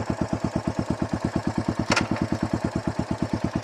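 A motorcycle engine idles near and loud in a steady, even thump as the rider pulls the clutch and kicks it into first gear, with a brief clunk of the shift partway through.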